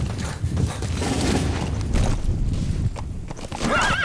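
A horse in the Metal Gear Solid V video game whinnies loudly and close, with its hooves clip-clopping in a steady rhythm around it and a brief game effect near the end.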